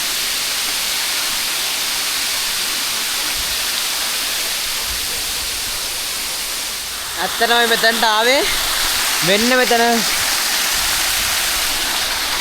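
Dunsinane Falls, running with reduced water, rushes as a steady hiss of falling water, and a voice speaks briefly over it near the end.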